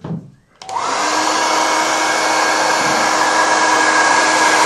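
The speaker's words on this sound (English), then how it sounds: "Hairdryer." A hair dryer switches on after a brief pause and blows steadily with a loud, constant whooshing whine, close by and without talk.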